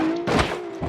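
A vehicle crash in the BeamNG driving game: one short, loud thudding impact with a brief rumble, over a steady engine drone, followed by a second smaller knock.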